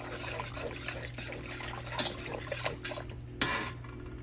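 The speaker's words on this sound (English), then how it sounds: "Just whisk that in there." A whisk stirs salt and nutmeg into a simmering sauce, scraping and clinking softly against the pan in a quiet, continuous rhythm, with a brief metallic tap near the end.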